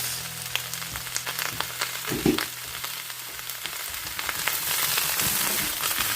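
Mixed vegetables and mushrooms sizzle steadily in a hot pan as they are stir-fried, with a dense continuous frying hiss broken by scraping stirs. The sizzle grows slightly louder toward the end, and no voices are heard.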